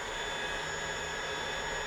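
Steady, dense roar of a jet aircraft engine at takeoff in the flight simulator DCS World, a continuous broadband rush with faint high whine, unchanging and close throughout with no talk.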